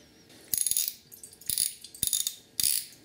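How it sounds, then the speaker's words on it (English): A ratchet wrench loosens a bolt on a Honda TRX450R water pump, heard as four short, close bursts of rapid clicking separated by brief pauses, with no talking. "So we'll remove that bolt."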